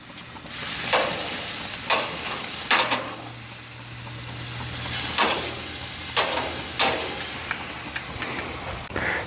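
Steaks on a grill sizzle steadily after being turned, with a continuous hiss broken by repeated scraping and stirring strokes, close and moderately loud.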